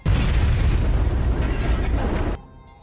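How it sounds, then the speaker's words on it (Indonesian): A big explosion in an action film erupts as a loud, sustained deep roar with crackling debris, then cuts off abruptly to near silence. "Tiba-tiba terjadi ledakan besar tidak jauh dari lokasi mereka berada."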